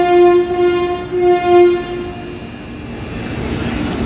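The Rajdhani Express, a New Delhi to Sealdah train, stands at platform 5 of Asansol station, where a loud, close horn sounds in several sustained blasts before fading into rumbling train and platform noise.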